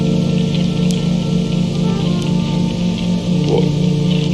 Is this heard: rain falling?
yes